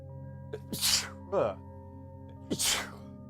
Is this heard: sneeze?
yes